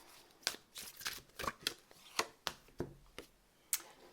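Oracle color cards being shuffled by hand, a series of crisp riffling flicks and taps in irregular bursts, close and fairly quiet, with no talking.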